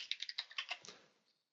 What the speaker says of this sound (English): So if I try to type a SQL command like select something,